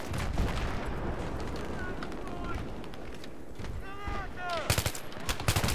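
Gunfire from a rifle fitted with a reflex sight in Battlefield 3, loud bursts on a busy battlefield backdrop of distant explosions and shots, with a voice talking over part of it.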